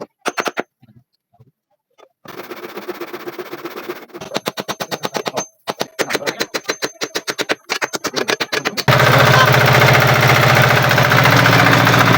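A small diesel engine driving a homemade water pump by a river sputters and tries to catch with irregular popping bursts, then settles into a loud, steady running roar.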